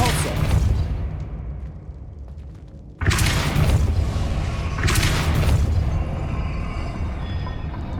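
A Depulso spell cast in Hogwarts Legacy: a heavy booming blast that cuts in suddenly, followed by a second rumbling surge and a sustained roar, loud and close over a steady game ambience.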